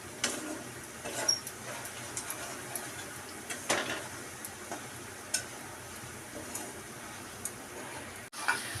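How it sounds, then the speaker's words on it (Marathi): Spices sautéing in a pan for valachi bhaji, a faint, steady sizzle with intermittent light ticks and stirring scrapes, close by and quiet. "ह्याला जरा 2 मिनिटं परतूया।"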